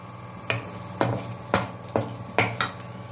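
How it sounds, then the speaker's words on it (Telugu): Dried red chillies and urad dal frying in about three tablespoons of oil for a Telugu gongura chutney, a steady sizzle broken by five or six sharp scraping stirs of a spoon against the pan at roughly half-second intervals, close and without talk. "ఇవన్నీ కూడా బాగా వేయించుకోవాలి"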